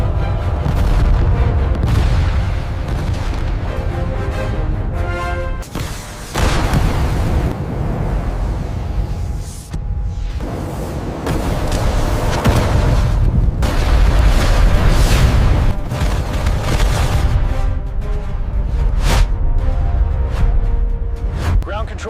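Missile strike explosions and flak roar in loud, continuous booms and rumbling bursts, with a brief dip in the middle before heavy blasts resume.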